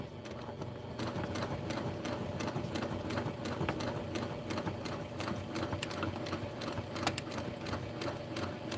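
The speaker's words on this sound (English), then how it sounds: "I'm going to sew a couple stitches off and we're just going to keep going." A PQ 1500 sewing machine stitches in a fast, even run of rapid clicking beats, close and steady throughout with no talking.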